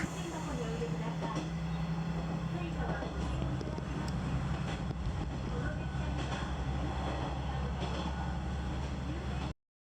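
An electric train rumbles steadily along the tracks past Kurosawa Station, Japan, following a winding river valley, with a constant low drone and rattling, continuous and fairly loud throughout before cutting off abruptly.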